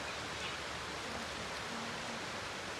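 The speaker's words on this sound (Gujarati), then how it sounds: "ફૂલ વરસાદ ચાલુ છે" Steady heavy rain pours without a break, a dense, even hiss that fills the whole clip with no voices over it.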